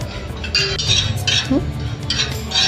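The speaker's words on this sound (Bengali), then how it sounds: "আমি অল্প একটু জিরে ভেজে নিচ্ছি" A small amount of cumin seeds dry-roasting in a pan, stirred with a utensil that gives light clinks and scrapes against the metal, close and steady throughout.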